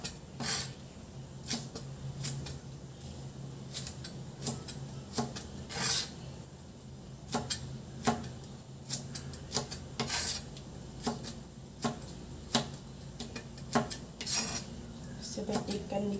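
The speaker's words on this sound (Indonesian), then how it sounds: "Dan saya akan memotong buncisnya." Knife slicing green beans lengthwise into thin strips while cooking a beef and bean sambal goreng, giving repeated sharp taps on a board in an uneven rhythm, close and clear with light scraping between cuts.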